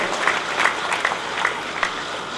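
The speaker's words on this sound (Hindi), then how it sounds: "इनके लिए जोरदार तालियां" Loud applause from a gathered crowd at a Bhagwat katha event held at a cow shelter, rolling steadily for a couple of seconds with sharper clap bursts rising at regular intervals.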